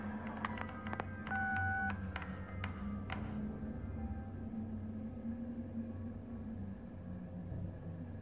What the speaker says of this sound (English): Pick up the phone, for God's sake. What are you doing? Do you even hear it ring?